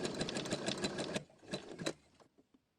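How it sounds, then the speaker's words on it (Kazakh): A sewing machine runs a zigzag stitch along a fabric edge in a quick, rattling burst of rapid needle strokes, pauses briefly, then runs a shorter burst before falling quiet. "Осылай шетінен әдемілеп тігіп шығамыз."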